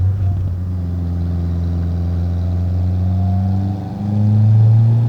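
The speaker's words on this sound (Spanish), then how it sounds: "Qué bien suena el escape." A Fiat Uno Turbo drives along a road in third gear, its engine and exhaust holding a steady droning tone heard from inside the car, dipping briefly before pulling harder with a rising growl.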